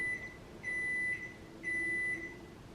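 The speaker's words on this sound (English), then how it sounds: "Sorry, that was my timer." Kitchen timer set for soup beeping in repeated long electronic tones, three bursts about a second apart, clear and fairly close in a quiet room.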